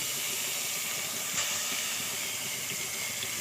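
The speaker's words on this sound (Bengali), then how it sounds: "এবার কড়াইতে আমার তেল গরম হয়ে গেছে মাছটা ভেজে নেব" Bhola fish fries in hot oil in a wok, giving a continuous, even hissing sizzle close up, with no talking over it.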